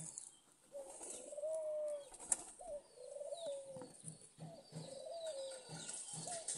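Pigeons and doves coo repeatedly at a home bird enclosure that also keeps quail and chickens. The soft, rounded calls come in overlapping phrases close by, with faint chirps in the background.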